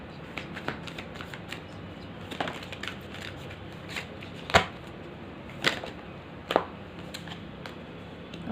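Tarot cards shuffled by hand in a quiet room, a run of soft riffling and several sharp snapping card strikes, close and alone.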